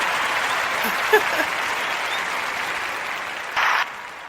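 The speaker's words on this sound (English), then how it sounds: "better clap for me because I am here." Applause from a crowd greeting a comedic performer, a steady dense wash of many hands clapping for several seconds at moderate loudness with no talking over it.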